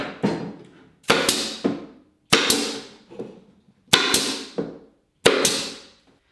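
Small tacks hammered into a model railway track bed, five sharp close taps at roughly one-second intervals, each with a short ringing decay, no talking.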